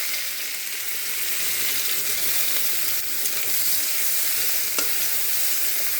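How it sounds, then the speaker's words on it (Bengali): Whole cumin seeds and chopped onion sizzling in hot oil in a kitchen pan, a steady close hiss with light stirring scrapes throughout. "সেই তেলের মধ্যেই আমি ফোড়ন দিয়ে দেব। একটু গোটা জিরে আর অল্প পেঁয়াজ কুচি।"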